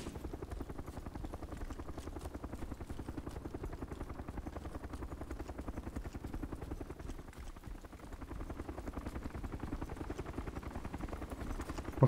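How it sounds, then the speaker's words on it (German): A helicopter's rotor in the game DayZ Overpoch chops rapidly and steadily at moderate distance, a continuous low thumping flutter with no voices. "Okay, jetzt ist auch der eine Helikopter wiedergekehrt."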